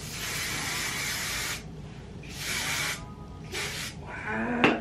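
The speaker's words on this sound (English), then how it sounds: "I hate that I'm spraying this on here" A small aerosol can of hair spray hisses in three bursts, a long steady spray followed by two shorter ones, close by with a faint click at the end.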